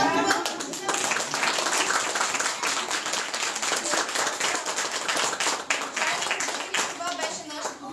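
Dense, steady hand clapping from an audience at a school celebration for the National Awakeners holiday, sustained and fairly loud throughout without a break.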